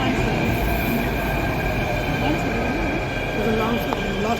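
A metro train runs at a station platform with a steady loud rumble and thin wheel squeal tones, while a voice speaks briefly over the noise.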